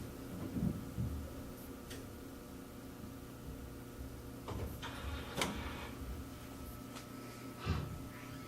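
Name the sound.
Epson 7890 printer starting up in serviceman mode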